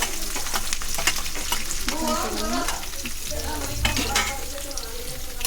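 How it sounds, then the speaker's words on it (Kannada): Mustard seeds and sliced onions fry in hot oil for an egg curry, making a dense, close sizzle with crackles and stirring scrapes. A faint voice murmurs in the background partway through. "ಚೆನ್ನಾಗಿ ಫ್ರೈ ಮಾಡಬೇಕು ಆ ಸ್ವಲ್ಪ ಬ್ರೌನ್ ಕಲರ್ ಆಗುತ್ತೆ"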